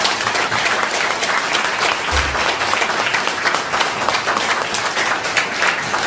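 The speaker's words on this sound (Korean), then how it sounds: "윤석열 대통령님께 박수 한번 드리도록 하겠습니다" Loud, sustained applause from a seminar audience, dense clapping that fills the room steadily for several seconds with no break.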